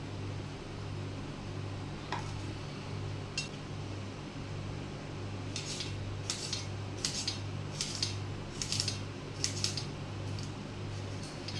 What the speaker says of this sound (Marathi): कांदे मी आता धुवून घेतलेले आहेत, आता कापून घेते.